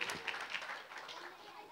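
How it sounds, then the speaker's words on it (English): An audience claps after children sing at a school annual day function, a dense, steady patter of many hands heard faintly and from a distance, keeping on throughout with no clear break. "Give a big round of applause for this wonderful song"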